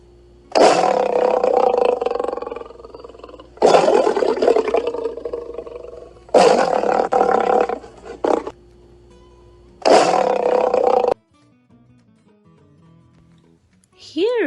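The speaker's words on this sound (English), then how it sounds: "Lion roars." A lion roars four times in long, loud, rumbling bursts separated by short pauses, then the sound drops to near silence with a faint rising tone at the end.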